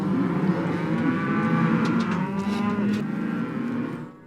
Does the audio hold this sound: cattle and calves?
yes